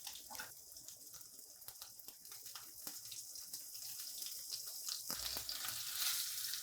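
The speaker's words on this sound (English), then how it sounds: "while my fish is searing off" Pecan-crusted white fish sears in hot oil with fresh thyme in a pan, giving a steady, fairly quiet sizzle that grows a little louder toward the end, with no talking.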